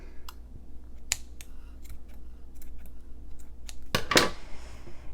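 Scissors snip through paper school photos for a scrapbook layout: a series of faint, sharp clicks spaced irregularly, then one louder, longer cutting stroke near the end, all in a quiet room.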